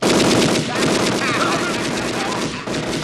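Automatic gunfire crackles in rapid, dense bursts throughout a Home Alone 2 movie scene, loud and sustained with a brief dip near the end.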